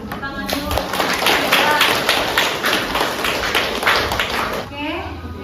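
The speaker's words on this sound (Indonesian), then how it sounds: "Yang kasih tepuk tangan dulu." A class applauds indoors, a dense, steady patter of many hands clapping at once for several seconds before it starts to fade.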